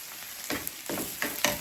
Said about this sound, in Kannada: ಇದೆಲ್ಲ ಫ್ರೈ ಆಗ್ತಾ ಇರಲಿ.